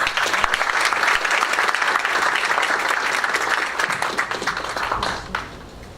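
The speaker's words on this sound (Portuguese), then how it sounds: "Um aplauso para eles." An audience at a scientific lecture applauds steadily with dense clapping for several seconds, then it fades out near the end.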